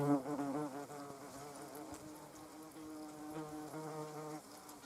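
A wasp buzzes close by near a Venus flytrap, a steady droning hum that wavers in pitch for several seconds, heard alone.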